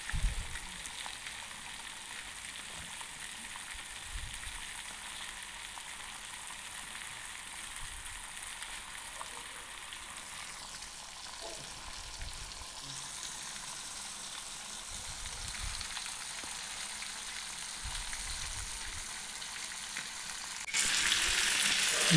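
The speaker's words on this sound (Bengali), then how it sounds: "এটিকে হালকা আঁচে কিছুক্ষণের জন্য ভেজে নেব" A whole catla fish fries in hot oil in a pan over low heat, giving a steady, close sizzle and bubbling throughout, with occasional crackles and a louder burst of hissing near the end.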